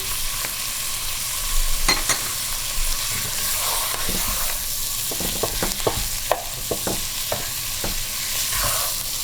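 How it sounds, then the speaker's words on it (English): Meat browns in a hot pan with black pepper for a Persian spinach and prune stew, sizzling steadily while it is stirred and tossed, with irregular scraping clacks from the utensil throughout. "constantly toss this and turn around to keep the juice inside the meat"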